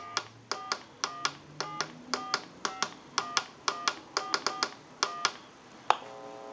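A rapid series of short dialing tones from a TA954 military field telephone, about fifteen evenly paced beeps, each a crisp touch-tone note, followed by a brief ringing tone at the end.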